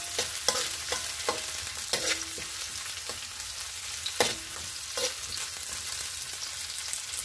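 Garlic and onion sautéing in a frying pan, a steady low sizzle broken by a scattering of sharp utensil scrapes and taps from stirring, close by and without speech.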